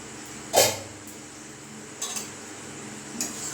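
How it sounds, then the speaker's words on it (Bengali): A metal lid lifted off a pot of simmering mutton and liver curry with a sharp clatter, followed by a couple of lighter metallic clinks and a faint later tap, close and alone. "এবার আমি ঢাকাটা খুলে দেখবো।"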